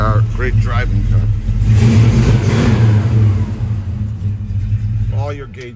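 A 1957 Chevrolet 210 with a performance cam and dual exhaust revs hard, its deep rumble rising into a loud roar that peaks and settles back. Someone speaks briefly before and after the rev.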